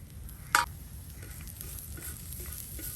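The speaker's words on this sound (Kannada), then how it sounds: "ಸ್ವಲ್ಪ ಹೊತ್ತು ಹೀಗೇನೆ ಹುರಿದ್ರೆ ಆಯ್ತು." Grated coconut, onion and garlic frying in a pan give a soft, steady sizzle, with one sharp stirring clink near the start.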